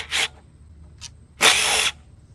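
Ratcheting tool bursts while removing the air filter bolts on an old roadside lawnmower: a short burst, a brief click, then a longer whirring burst, close and alone.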